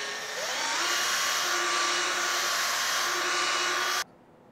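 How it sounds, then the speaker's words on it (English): A mini buffer polishes car paint with compound, giving a steady high-pitched electric whine that spins up, holds close and loud for several seconds, then cuts off abruptly. "Now we can use some compound and our mini buffer to buff it out"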